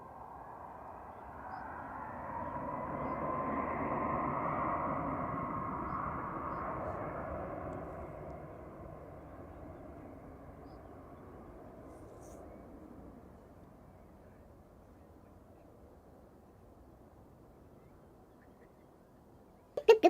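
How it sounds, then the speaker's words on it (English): Jet airliners at Manchester Airport, an SAS plane landing while a Ryanair jet departs, give a broad distant roar that swells to a peak and slowly fades, with no talk. "Here comes SAS coming in. Ryanair departing in the background."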